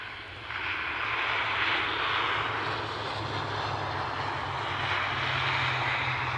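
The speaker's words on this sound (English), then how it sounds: "we have an ATR inbound. It's going to be Aer Lingus." An Aer Lingus ATR turboprop airliner arrives at Edinburgh Airport, its steady engine drone and broad propeller roar building quickly and holding loud and close for several seconds with no talk.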